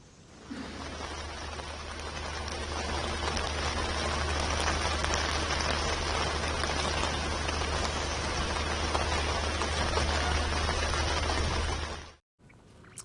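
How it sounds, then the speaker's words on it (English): Heavy monsoon rain pours down steadily on a Delhi street, a dense, even hiss of close downpour that holds for about twelve seconds before cutting off abruptly, with no voices. "Rains have brought the city to a standstill."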